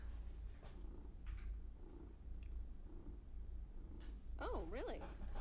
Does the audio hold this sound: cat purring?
yes